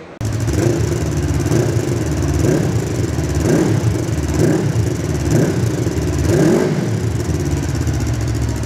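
A Hanway Heritage 400 bobber motorcycle runs loudly up close, its throaty twin-pipe exhaust rumbling with a few gentle rises in revs over a constant drone.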